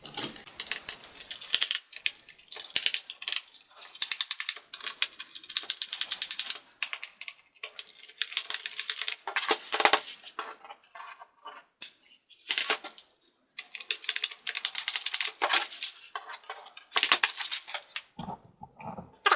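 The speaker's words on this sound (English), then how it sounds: "we can take out 1, 2, 3, 4, and 5 screws to take the palm rest off" A small screwdriver works screws out of a Lenovo ThinkPad X230T laptop palm rest, giving bursts of dry scratchy ratcheting clicks with brief pauses between screws, close and fairly quiet with no talk.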